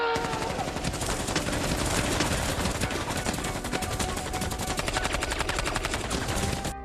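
Sustained machine gun fire in a war movie scene, a rapid, dense stream of loud shots fired from the back of a truck, continuing unbroken for several seconds.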